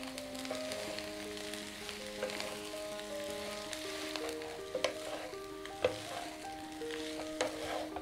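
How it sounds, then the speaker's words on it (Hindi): Chow mein noodles tossed and mixed in a pan, giving a quiet, steady sizzle with scattered scraping and clinks from the utensil throughout, no voices. "आइए अब हम इन्हें मिक्स कर लेते हैं।"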